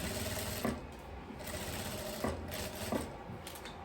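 Close by, a sewing machine stitches the front opening of a long fabric dress, giving a steady fast mechanical whir with a few brief louder clacks.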